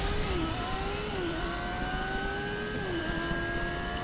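A video-game motorcycle engine holds a steady drone with pitch shifts as it revs and shifts gears, moderately loud and continuous with no talking.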